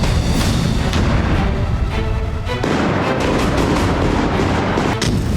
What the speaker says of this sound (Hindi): बेलगोरोद में मौजूद रूसी सेना आर्टिलरी से भीषण हमले कर रही है।